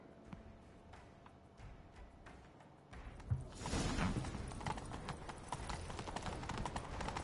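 Horse hooves clatter in The Witcher 3, a quieter rhythmic clip-clop that swells into a louder, dense gallop partway through, close and continuous under game ambience.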